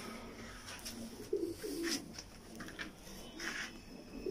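Soft, low cooing of pigeons repeating in short rounded phrases, moderately close, over a faint background hum.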